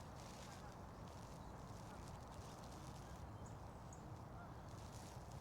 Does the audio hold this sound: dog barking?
no